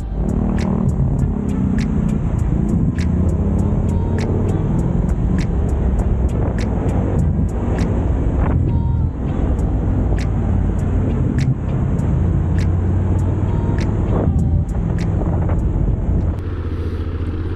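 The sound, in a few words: road traffic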